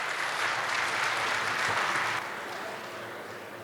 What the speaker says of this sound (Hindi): यदि आप चाहें कि ऐसे सीनियर पर्सन का हम तालियों के साथ स्वागत करें